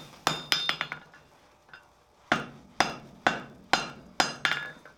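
Chain links being forge welded under a hammer: sharp metallic ringing blows in quick bursts of several strikes, separated by short pauses, close and clear with no talk.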